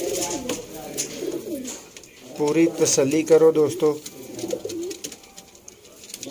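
Sialkoti pigeons coo in soft, rolling, throaty phrases close by, rising in the middle of the stretch while someone talks over and between the calls.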